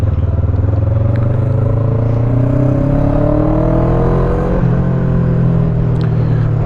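A Honda CB500 motorcycle fitted with an upgrade kit revs steadily under riding, its engine note climbing in pitch with rising rpm over a continuous low rumble, loud and close throughout with no talk.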